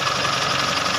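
Isuzu 4JJ1 diesel engine idles after a steering repair, a loud, steady close-up clatter and rumble over one brief second.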